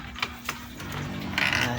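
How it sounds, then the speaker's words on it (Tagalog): A manual pressure sprayer is pumped by hand to build air, giving a few faint mechanical clicks and hisses, with a rising airy rush near the end. "Bubumbahin lang natin to para magkaroon ng hangin."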